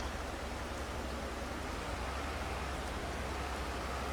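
Rain in the Farming Simulator 22 farming game, a soft, steady hiss of falling rain that holds level throughout with no talk over it.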